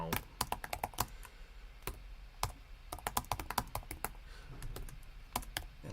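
Computer keyboard typing at a desk, quick irregular keystrokes and taps clicking steadily over a faint background hum, fairly close and moderately quiet.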